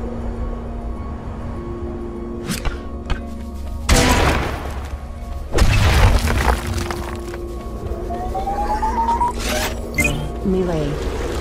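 Explosions in the video game Beacon, with a couple of loud booming bursts amid game effects and a droning background.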